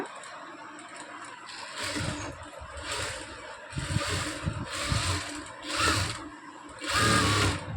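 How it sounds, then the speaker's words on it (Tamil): A normal domestic sewing machine runs a zigzag stitch along a blouse edge in about five loud, close whirring bursts separated by brief pauses, with no speech. "இந்த ப்ளவுஸ் ஓரத்தில் சிக்ஸாக் மெத்தடில் இப்படி நம்ம ஸ்டிச் பண்ணிக்கிட்டே வரணும்"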